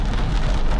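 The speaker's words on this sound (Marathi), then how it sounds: "पाऊस जाम पडते" Heavy rain pours down steadily during a slow ride on a rainy road with headlights on, a dense, continuous roar of drops filling the whole stretch with no pause.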